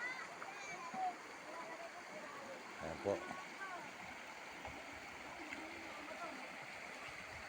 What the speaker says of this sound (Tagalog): Ayan ang batis, napakaganda,